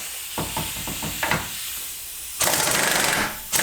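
A pneumatic air impact gun works on ball joint bolts on a Mitsubishi Evo 9 rear hub, giving short rattling hammer bursts, then a longer loud buzzing rattle with a hissing edge, and a final brief burst.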